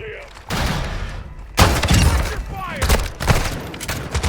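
Lockwood 300 double-barrel shotgun blasts in Call of Duty Warzone 2.0 DMZ, a few heavy booming shots with gunfire and debris clatter, loud and close, with a voice briefly heard.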